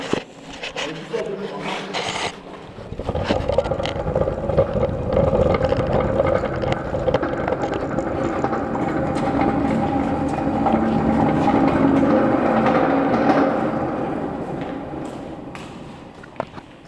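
A small trolley cart rolls along deep inside an underground fort, its wheels making a long, loud, hollow rumble that builds and then fades out, with a few knocks at the start.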